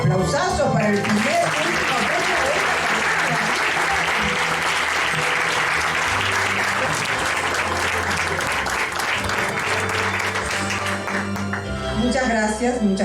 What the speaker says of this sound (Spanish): Aplausazos para el primer